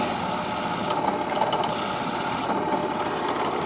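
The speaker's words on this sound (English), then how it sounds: "We'll just turn it on, and we're just going to trim it back" Barrel trimmer trimming a wooden pen blank back to its brass tube, driven by a drill, giving a steady close grinding whir with slight rough cutting texture throughout.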